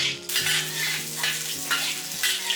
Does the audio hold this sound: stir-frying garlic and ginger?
yes